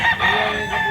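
A rooster at the Carbon Market in Cebu gives a loud, close crow that fills the short moment, harsh and sustained against market background noise, with no talk over it.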